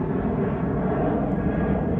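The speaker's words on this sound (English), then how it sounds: "Oh, plane." A Jet2 holiday jet airliner passes overhead above farm fields, a steady, loud, broad engine roar that holds evenly throughout.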